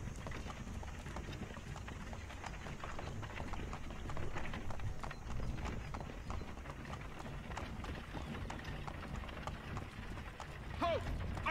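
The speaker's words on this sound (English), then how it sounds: "There are no reins for these horses." Horses' hooves clip-clop in steady rhythm in Assassin's Creed III Remastered, quiet and continuous with faint mechanical creaks alongside, while a voice speaks over the trotting.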